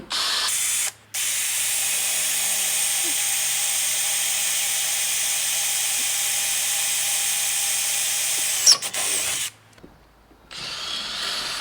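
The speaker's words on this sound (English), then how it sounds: "And then this one will drill here." A power drill whines steadily while drilling a hole in a VW T5 van, pausing briefly near the start, then running for several seconds before stopping, with a short burst after.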